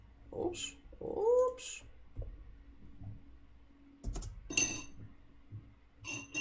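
A house cat gives two short, rising meows up close, followed by a few light clinks and rattles nearby with quiet pauses in between.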